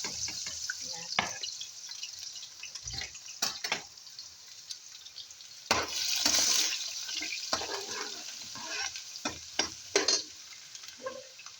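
Slices of organic native garlic frying in oil alongside peanuts, a steady sizzle with intermittent stirring clatters and scraping, fairly close, with a brief louder burst of spattering midway and no talking.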